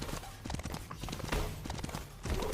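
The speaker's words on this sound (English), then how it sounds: "I'm just on my horse." Horse mount hoofbeats in the Smite video game, a steady clip-clop of hooves trotting along over game ambience and effects, moderately loud and continuous.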